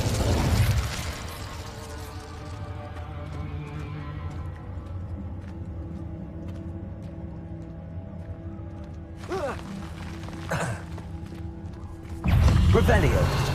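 An Incendio fire spell in a Hogwarts video game bursts loudly, then gives way to a sustained crackling, whooshing fire effect with mechanical clanks and a second loud burst near the end, under game ambience.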